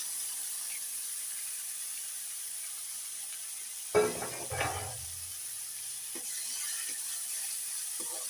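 Faint steady sizzling hiss of frying in oil, with a brief clatter and a louder burst of sizzle partway through as chopped onions are added.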